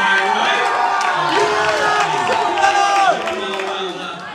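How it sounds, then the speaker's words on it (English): A rowdy crowd at a Friday night stand-up comedy show cheers and shouts, many overlapping voices and whoops forming a loud, continuous din that eases slightly near the end. "this is a rowdy crowd here on a Friday night"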